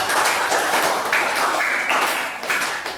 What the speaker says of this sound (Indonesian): Tepuk tangan dulu buat Mbak Alin